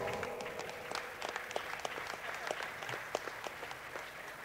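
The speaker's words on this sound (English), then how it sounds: "Give him a round of applause." Audience applause at a Halo esports tournament exhibition match, a dense, continuous wash of clapping from a crowd, moderately faint and steady throughout.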